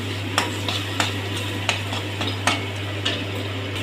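Spices for a restaurant-style chicken masala curry sizzle in a pan. A spatula scrapes and taps in a steady rhythm, roughly every half second, over a constant low hum.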